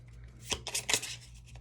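Tarot cards being shuffled by hand, a few quick riffling bursts close up, crisp papery flutters over a quiet background with a low steady hum beneath.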